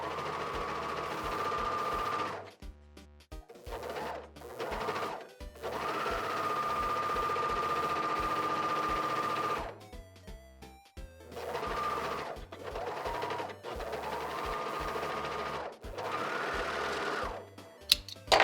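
A sewing machine stitches a rolled hem on jeans in several sustained runs of steady whirring, each lasting a few seconds and separated by short pauses and clicks, close and clear with no talking.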